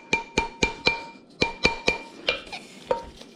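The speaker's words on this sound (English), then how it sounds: "I'm going to take my mandrel and hammer and straighten it back up." A hammer strikes a copper ring on a mandrel in about a dozen sharp, ringing metallic taps at a steady brisk rhythm, close and clear with no talking.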